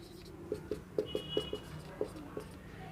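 Hand writing in a quiet room, probably a pen or marker used for a science lesson on acid-base indicators, giving a series of short, faint, evenly spaced strokes.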